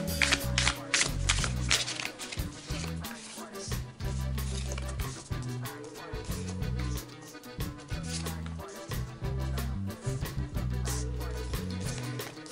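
Tarot cards are shuffled over and over for a love reading, a busy run of riffling and sliding card bursts under a steady low background, fairly close and continuous.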